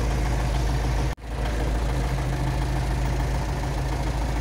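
An MTZ-80 tractor engine idles steadily in a close, loud, even drone, broken by one brief dropout just after the first second before the rumble resumes unchanged.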